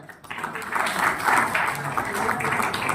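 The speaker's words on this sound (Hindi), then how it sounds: "नवोदित साथी उनके लिए जोरदार तालियां बजाएं।" Applause from an audience at a literary event, honoring a young poet who is a final-year BSc student at a science college: moderately loud clapping that swells and holds, with faint voices mixed in.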